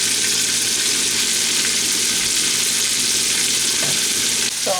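Vegetables and leaves for pancit sizzle and fry in a hot pan, a loud, steady crackling hiss with a brief stir near the end.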